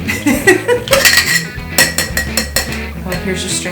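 A cocktail shaker for a RumChata drink shaken hard at home, with a rapid, irregular metallic rattle of ice and clinking against the tin, loud and close.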